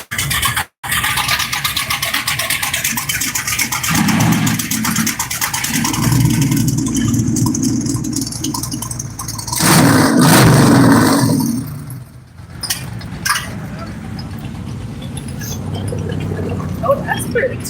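A truck pulls in at a pre-rod-run car show, its engine idling with a low rumble and then revving up for a few seconds before settling again, while people chat nearby.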